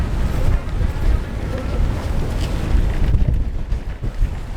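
Gusty wind buffets the microphone aboard a sailboat turning into the wind off the Jersey coast near Cape May, loud and continuous with water sounds beneath and faint voices in the background.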